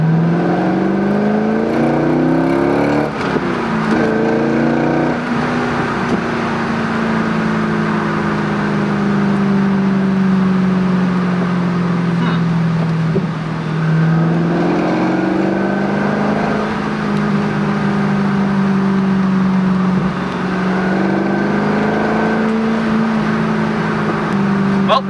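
C5 Corvette V8 engine at full throttle, a loud, steady, close drone with rising and falling pitch as the revs climb in sustained pulls over the whole stretch.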